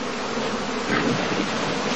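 Bees buzz around straw skep hives in a heathland apiary, a dense, continuous hum of many insects that stays fairly loud and even throughout.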